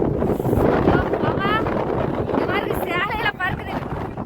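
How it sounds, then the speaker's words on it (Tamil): Strong wind buffets the microphone with a constant roaring rumble at a hilltop viewpoint called Paranthu Paarai, while people talk over it. "காத்து தாங்க முடியல"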